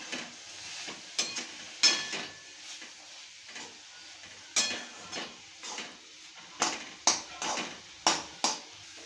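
Crushed peanuts, coarsely ground, stirred into dill greens in a pan for a traditional bhaji: a spoon scrapes and knocks against the metal pan in a series of close, irregular clinks and thuds over a faint sizzle.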